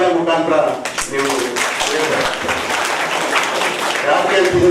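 An audience at an event on nature cure applauds, with loud, dense clapping from many hands that continues steadily and close, while a voice talks faintly underneath.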